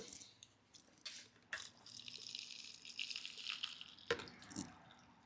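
Water pours and splashes into a container, with intermittent trickles, drips and a few brief louder splashes, fairly close and quiet, with no talking.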